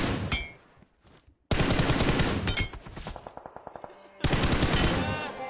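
Automatic and single-shot gunfire in the PUBG Mobile battle royale game comes in loud bursts, separated by brief lulls and a run of evenly spaced rapid shots, with no voices.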